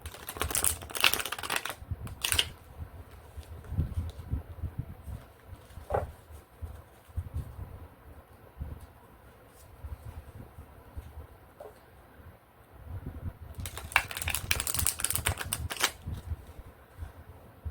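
Tarot cards are shuffled in loose, rapid riffles and slides, crisp papery flutters at the start and again near the end, with softer handling clicks and rustles in between, close and with no voices.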